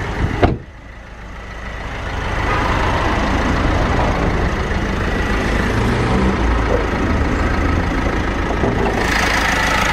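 A 1600 diesel engine in a six-speed estate car idles under an open bonnet with a steady, even rumble that holds for the whole stretch, no voices over it.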